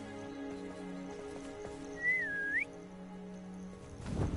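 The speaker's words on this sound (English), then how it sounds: "That was kind of a weak whistle." A thin whistle in the video game Hogwarts Legacy, a single wavering note lasting under a second over ambient game music and a low drone, followed by a soft rustling swell.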